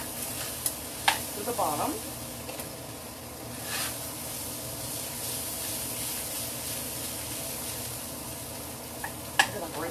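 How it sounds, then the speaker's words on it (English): Food being stirred in a hot pan while making miniature Mexican shells, scraping and stirring strokes over a continuous sizzle, with a voice speaking briefly. "let me stir this in here"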